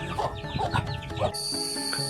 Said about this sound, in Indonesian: Dan untuk ayam di sini ada banyak.